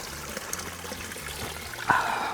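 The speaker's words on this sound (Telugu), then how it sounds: "ఆ పైనుండి వస్తున్నాయి మెల్లగా వస్తున్నాయి నీళ్ళు" Cold spring water trickling gently down the hillside at Kondapalli Fort, a faint continuous dribble with a brief louder splash near the end, heard outdoors without speech.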